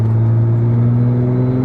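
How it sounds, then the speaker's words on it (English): Turbocharged engine of a BMW 1M Coupe revving with a loud, steady, deep droning hum heard from close by, holding one even pitch through the short stretch with no talking. "this behavior from this engine, it is so old school big boost turbo engine"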